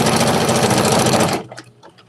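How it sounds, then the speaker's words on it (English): An NS2750D two-in-one domestic embroidery and sewing machine fitted with a walking foot stitches through denim: a loud, fast, steady mechanical whir close by that stops abruptly, leaving faint clicks. "I'm sewing on a domestic machine. 2-in-1. It's an embroidery and regular domestic machine. It's the NS2750D."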